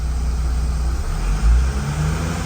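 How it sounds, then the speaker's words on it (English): A Mercedes E350 CDI V6 diesel engine, just serviced with a new fuel filter, runs with a low steady rumble and rises in a brief rev near the middle, with no voices. "Can help to give the engine some revs"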